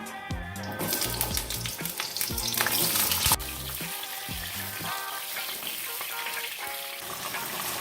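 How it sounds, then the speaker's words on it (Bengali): Pointed gourds hit hot mustard oil in a wok with a loud, crackling sizzle and a few clatters of stirring. The sizzle then settles into a softer, steady fry that continues alone. "কড়াইতে সর্ষের তেল দিচ্ছি হালকা করে ভাজবো বেশি ভাজবো না তেলটা গরম হয়ে গেছে পটলগুলো দিয়ে দিচ্ছি"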